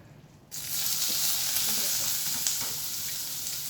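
Prawns hit hot oil in a pan and break into a loud, steady sizzle that holds evenly after a sudden start, with light crackles but no voices.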